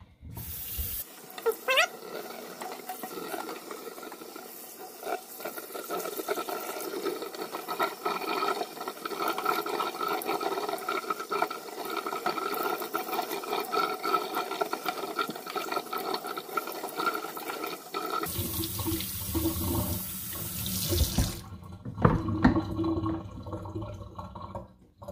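Tap water running steadily into a sink as a skateboard hat is rinsed, a continuous close splashing rush that shifts to a deeper gurgling flow near the end, then cuts off, no voices.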